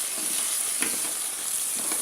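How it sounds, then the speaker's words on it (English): Fish curry simmering in a pot gives off a steady, soft sizzle and bubble, with a few faint scrapes from stirring. "I'm gonna let it simmer, let the juice come out, mix well"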